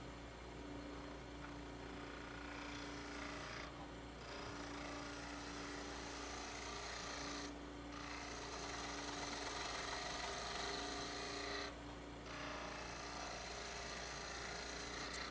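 Lathe spinning a wooden lidded box while a turning tool takes light cuts, a continuous low motor hum with steady whirring, briefly dipping a few times, faint and even throughout.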